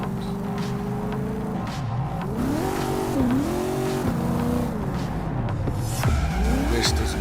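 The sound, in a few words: sports car driving in video game Cyberpunk 2077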